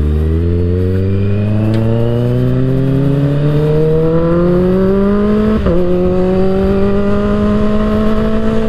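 A Kawasaki Ninja H2 motorcycle ridden hard through canyon roads, its engine loud and close as the pitch climbs steadily under acceleration, with one brief dip like a gear change midway before the rising whine resumes.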